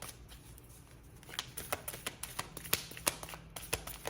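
Cards from a self-love affirmation deck being shuffled nearby, a run of quick crisp riffling snaps and flicks that grow denser toward the end, with no talking.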